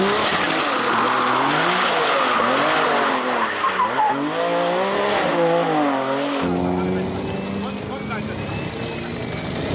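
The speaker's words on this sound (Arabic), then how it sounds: "هذا السيلفيا اس 14 اللي عليها كواد تيربو سيت اب ومحرك نفاث موجود ورا السيارة" A Nissan Silvia S14 with a quad-turbo setup and a rear-mounted jet engine screams loudly as its tires skid and squeal, engine pitch swooping up and down, with a voice talking over it throughout.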